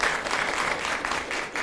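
Audience applause at a community meeting, a steady burst of many hands clapping close and fairly loud, filling the short stretch on its own.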